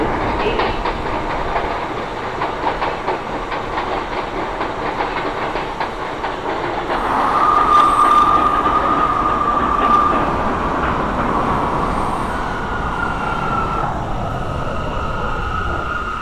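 An R179 subway train on the New York A express line runs in the OpenBVE train simulator with a loud, continuous rumble and rattle. A sustained whine rises midway and then settles back under the steady running noise.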